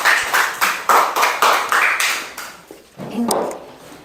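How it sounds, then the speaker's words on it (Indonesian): A classroom of children claps together, a dense burst of clapping across roughly the first three seconds that thins toward the end, close and loud with no speech over it. "Tepuk tangan dulu, kasih aplaus anak-anak."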